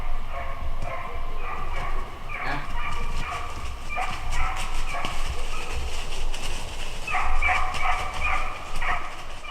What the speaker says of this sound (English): all of a sudden, this dog just starts barking.